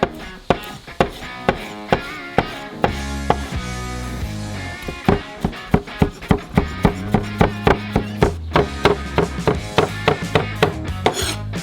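A knife chopping food into cubes on a board, a steady run of crisp, close knocks, many evenly spaced and quickening near the end, with faint background music.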